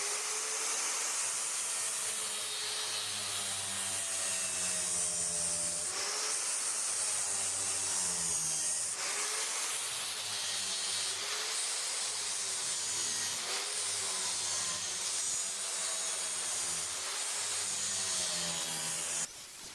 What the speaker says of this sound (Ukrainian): Беремо болгарку, пелюстковий круг, обов'язково надягаємо маску та спочатку робимо поглиблення по краям.